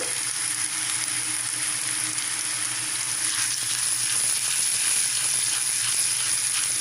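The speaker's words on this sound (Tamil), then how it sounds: "நல்லா வறுத்து எடுத்துக்கலாம். இஞ்சி துண்டு சேர்த்துக்கிறேங்க. பெருங்காயத்தூள் சேர்த்துக்கிறேன்." Ginger pieces and asafoetida powder fry in hot oil for idli upma, giving a steady, close hiss and crackle that runs unbroken throughout with no talk.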